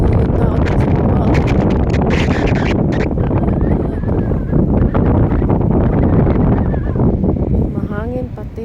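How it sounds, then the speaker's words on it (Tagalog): Strong wind buffeting the microphone on top of a tall tower, a constant loud roaring rumble with gusty bursts, while people talk and exclaim over it throughout. "Mahangin pati."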